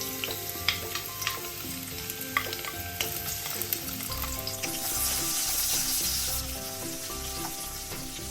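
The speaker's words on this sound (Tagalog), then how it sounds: "pag na-fill na natin na medyo mainit na yung ating oil, lagay na natin yung ating bawang at sibuyas" Garlic and onion sizzle steadily in hot oil in a pan for an escabeche, with the frying hiss swelling louder midway and occasional stirring clicks, no voices.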